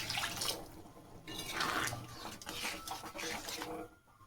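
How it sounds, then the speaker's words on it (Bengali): Water poured into a cooking pan for ghugni, a soft, fairly faint splashing trickle that runs in uneven spurts and then tails off. "এবার দিয়ে দিচ্ছি পরিমাণ মতন জল।"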